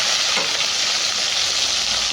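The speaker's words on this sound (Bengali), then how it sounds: "এবার চিংড়ি মাছগুলো ভেজে নেবো" Prawns frying in hot oil in a wok, a steady dense sizzle that stays loud and close throughout, with no pauses or voices over it.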